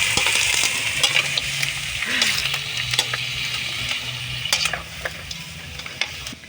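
Meat sautéing with onion, garlic and chili for kaldereta sizzles steadily in a pan, with frequent scraping and stirring clatter from a utensil throughout.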